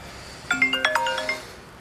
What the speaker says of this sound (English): Of course, the phone ring.